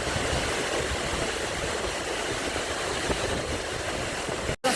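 Milung waterfall pouring down, a dense, steady roar of rushing water close by, loud and unbroken with no voices.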